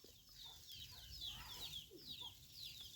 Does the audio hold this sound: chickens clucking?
yes